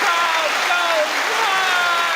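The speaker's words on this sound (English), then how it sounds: "Oh, the crowd goes wild" Applause sound effect played on a radio talk show, a dense continuous wash of crowd clapping and cheering lasting a couple of seconds, loud and close.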